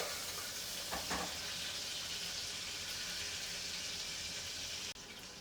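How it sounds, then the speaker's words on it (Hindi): Pointed gourd (parwal) frying in hot oil in a home kitchen gives a steady, close, loud sizzle and hiss throughout, with a brief utensil clatter early on and no talking. "परवल फ्राई हो गया है लगभग,"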